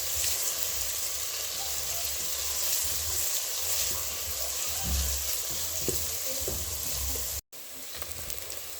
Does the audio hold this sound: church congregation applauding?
no